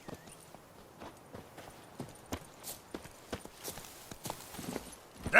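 Roach the horse's hooves clip-clop at a steady walking pace in The Witcher 3, each soft, distinct hoof strike falling in an even rhythm that grows slightly louder toward the end, with no talking over it.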